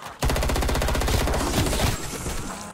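Automatic gunfire from a weapon in Call of Duty zombies on the Die Machine map: one loud, rapid, continuous burst lasting over two seconds, alone and up close.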